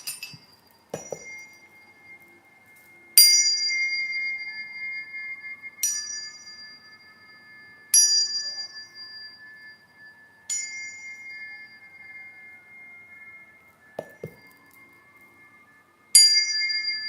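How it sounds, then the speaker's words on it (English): Bright, high-pitched cosmic chimes ring out in a steady series of separate strikes, one about every two or three seconds. Each rings clearly and fades slowly over near silence, with a few softer, lower knocks in between. "now we're going to the high frequency tones"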